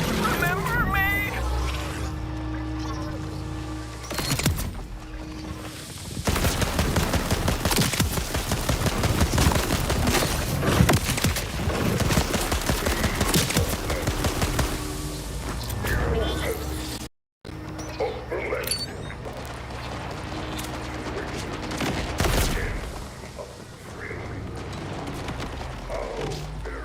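Sustained gunfire from the video game Borderlands 4: dense, rapid bursts that rattle on for long stretches with brief pauses, loud and mixed with game voices and other game sounds.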